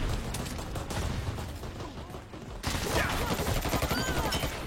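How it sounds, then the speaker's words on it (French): Small machine gun fire from the online shooter Dirty Bomb, a dense continuous rattle of rapid shots that grows louder and busier partway through, with other battle noise mixed in. "Ah, petit mitrailleuse, ça j'aime bien."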